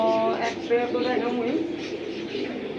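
Pigeons in a seller's new collection coo in soft, throaty rolling calls, close by and overlapping, with a voice speaking over them.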